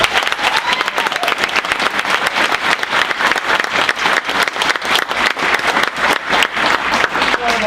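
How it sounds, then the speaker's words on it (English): A large audience claps in a steady, dense round of applause that fills the room at close range and keeps going throughout, with faint crowd murmur underneath. "So you can just give them a big round of applause."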